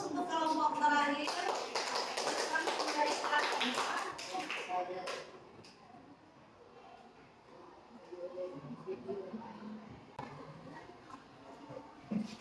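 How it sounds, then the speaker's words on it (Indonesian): Applause from students for the last group presenting in a seventh-grade civics class, a burst of many hands clapping for about five seconds, then fading into quieter classroom shuffling and murmur. "Oke, beri aplaus untuk kelompok terakhir."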